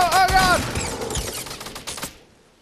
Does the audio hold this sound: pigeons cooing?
no